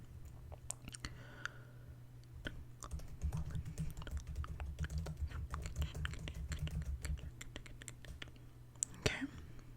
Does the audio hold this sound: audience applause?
no